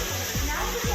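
The Kutralam waterfall where tourists bathe, a loud steady rush of falling water with splashing, while a voice speaks over it.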